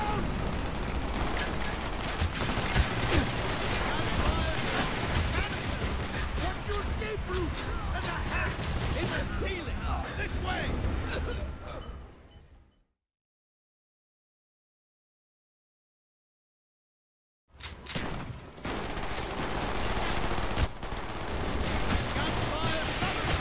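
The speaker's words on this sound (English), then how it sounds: "Gunfire!" Heavy gunfire in a war video game, dense volleys of shots with shouting voices, cutting to silence midway before loud firing resumes.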